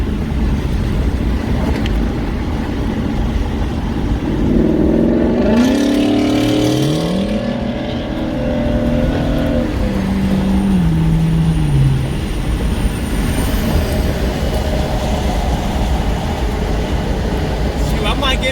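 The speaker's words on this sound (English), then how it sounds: "Shoot, I might get me a Ford Mustang. It sounds really, really nice right there." A 2016 Ford Mustang GT Premium with a straight pipe, X pipe and resonator delete gives a loud, deep exhaust drone that swells as the engine revs up and then falls away mid-drive, over steady road rumble.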